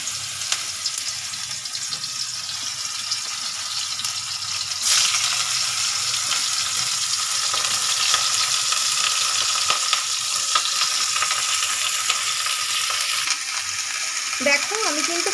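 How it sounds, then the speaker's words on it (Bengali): Bitter gourd frying in hot oil in a wok, a loud, continuous crackling sizzle that holds steady for the whole stretch with occasional stirring and a brief voice near the end. "এবার করলাটা ভেজে তুলে নেব"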